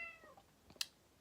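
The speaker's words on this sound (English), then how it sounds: "That's my cat." A domestic cat gives a single faint, drawn-out meow, followed a moment later by a sharp click, with no talking.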